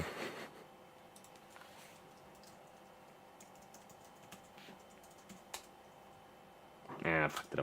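Rapid clicking of typing on a computer keyboard during a live electronics stream, a steady soft patter of keystrokes with a louder burst of clatter near the end.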